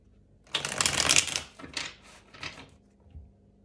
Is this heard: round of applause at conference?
no